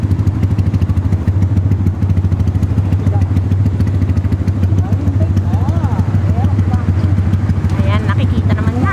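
Motorcycles offering free rides through a flooded street run with a steady close engine putter and clatter, a continuous loud drone under nearby talk and voices.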